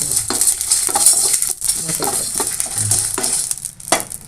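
Ingredients for a sorrel-leaf dish dry-roasting in a hot pan after the heat is turned off, stirred with a spatula in a rough scraping rhythm over a light sizzle, close and fairly loud.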